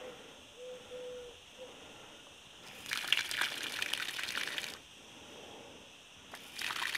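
Water from a tap gushes through a modified 220 V washing machine solenoid valve in two bursts, a hissy rush that stops for a moment and then starts again.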